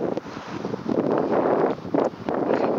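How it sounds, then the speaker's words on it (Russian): Gusty wind blows beside a wide river bridge in a city centre, buffeting the microphone in uneven rushing bursts that swell and ease repeatedly. "Ветерок чудесный просто."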